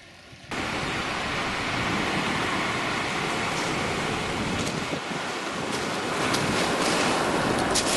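A continuous roar of surf on the beach at Clifton, New Zealand, in the morning, with wind rumbling across the microphone, beginning abruptly after a brief quieter moment.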